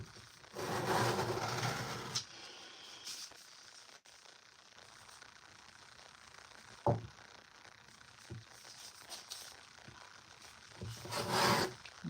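Pastry scraper scraping frosting on a square cake, with rough rasping strokes in short bursts, some louder sweeps at the start and end, and softer scrapes and taps between them.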